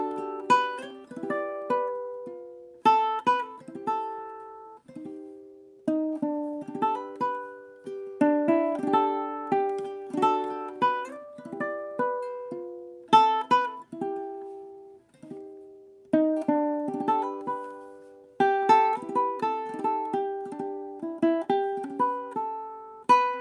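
Solo ukulele picked with only the thumb, playing an arrangement of a song: clear, warm plucked notes with chords and a singing melody line, steady and close, with brief pauses between phrases.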